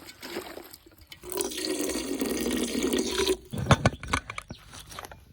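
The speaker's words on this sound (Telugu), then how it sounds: "ఇందులో వాటర్ పోసి ఉడకబెడదాం" Water poured into a cooking pot holding goat intestine (boti) with gongura for a village-style curry, a steady splashing pour for about two seconds, followed by a few clanks of the pot.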